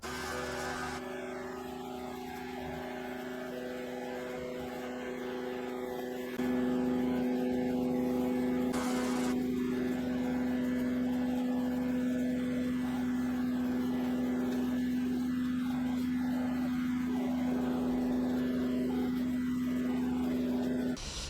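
A cleaning machine works across a patio with a steady, droning motor hum. It grows louder and more constant after a few seconds and continues without talk.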